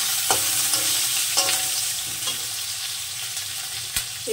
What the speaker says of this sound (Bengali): আবার আলুটাকে একটু কষে নেব।